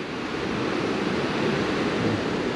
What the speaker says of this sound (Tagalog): Maririnig nyo yung hampas ng alon doon sa mga bato.